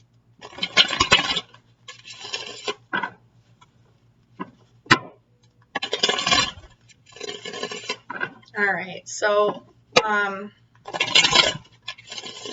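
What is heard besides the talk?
shuffling tarot cards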